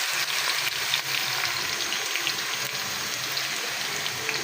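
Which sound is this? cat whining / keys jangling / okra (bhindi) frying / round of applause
okra (bhindi) frying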